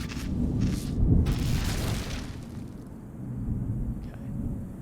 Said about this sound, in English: So now we get thunderstorms.